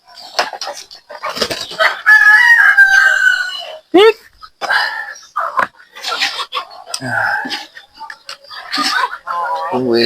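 Backyard chickens cluck and squawk at feeding time, close and busy, with short calls and what may be a crow mixed among frequent human talk.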